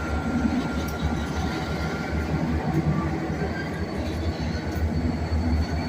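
Rebuilt GP38-2 diesel locomotives roll past on the tracks, a continuous heavy rumble of engine and wheels with faint rail squeals and clanks, close and steady throughout.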